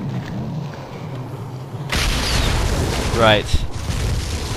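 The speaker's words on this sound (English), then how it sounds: "I want to get this cluster shot right in his fucking neck" A bowgun fires a cluster shot in Monster Hunter Freedom Unite, a sudden heavy boom that erupts partway through and rumbles on, with someone talking over it.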